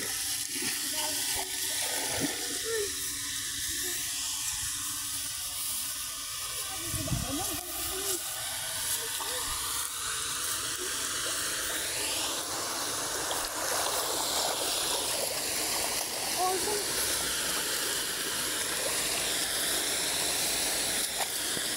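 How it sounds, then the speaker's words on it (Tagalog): Fast floodwater of a swollen river rushes steadily nearby, a broad continuous hiss and roar with a few muffled thumps and faint voices beneath it. "Malakas yung agos ng tubig oh."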